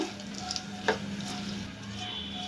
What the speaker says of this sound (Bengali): দুই থেকে তিন মিনিট আমি মশলাগুলো এভাবে ভেজে নেবো